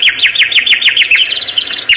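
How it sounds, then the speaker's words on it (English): Rapid, bright cartoon-style chirps repeat in quick bursts throughout, a looping twittering effect with a steady bouncy rhythm, loud and close. "That's the Dizzy Birds."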